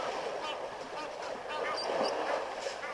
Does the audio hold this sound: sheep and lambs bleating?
no